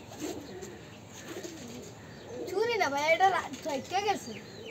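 Pigeons coo in soft repeated phrases at a home loft where a racing pigeon is kept. The calls grow louder and more insistent midway, and a person talks through much of the clip.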